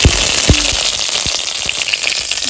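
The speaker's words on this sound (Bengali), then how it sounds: "তেজপাতাটা ফোড়ন দিয়ে দিচ্ছি দুটো জিরে ফোড়ন দিয়ে দিচ্ছি এলাচ তিনটে ফোড়ন দিয়ে দিচ্ছি" Bay leaf, cumin and cardamom temper in hot oil with a steady close sizzle, a dense hiss dotted with small pops and crackles.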